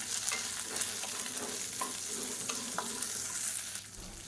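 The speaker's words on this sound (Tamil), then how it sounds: "இது வந்து வறுக்காத வேர்க்கடலை, அதனால் இதோடு சேர்த்து நான் வறுத்துக்கிறேன்" Raw peanuts roasting with garlic cloves and small ginger pieces in a pan, giving a steady, soft sizzle with scattered crackles and stirring scrapes throughout, fairly quiet and without talk.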